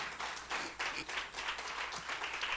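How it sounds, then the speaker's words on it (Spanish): Church congregation applauding during a worship service, a brief burst of mixed clapping that sounds fairly distant and faint, lasting a couple of seconds. "¿Le puede dar un fuerte aplauso al Señor?"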